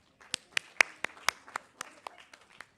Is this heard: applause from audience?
yes